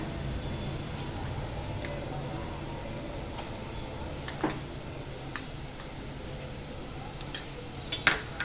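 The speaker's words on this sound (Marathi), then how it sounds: "वाटप पण ना तेल सुटेपर्यंत ना छान असं परतून घ्यायचं आहे" Malvani ground masala paste being sautéed in oil in a pan, a steady low sizzle running throughout with a few faint clinks of a spoon stirring.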